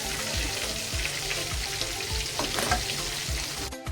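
Pakoras fry in hot oil in a home kitchen, a steady dense sizzle with rhythmic low thumps and stirring knocks throughout, close and fairly loud, with no talk.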